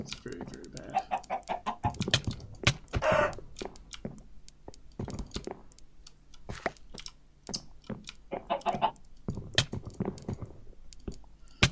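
Chickens in a video game cluck and squawk in scattered bursts, mixed with sharp impact hits and keyboard clicks, while a player talks over the action throughout.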